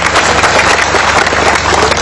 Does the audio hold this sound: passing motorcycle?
no